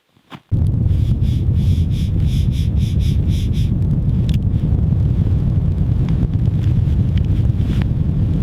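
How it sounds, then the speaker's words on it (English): Strong wind roars loudly and steadily across the microphone at a deep-snow camp with a hot tent in extreme cold, starting abruptly and buffeting without a break. "It's getting breezy out here."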